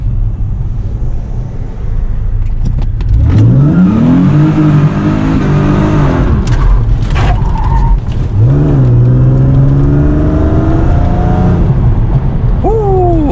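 A Mercedes W203 C32 AMG with traction control off launches hard, its engine revving loud and close, then rising through the gears while the tires squeal and break loose.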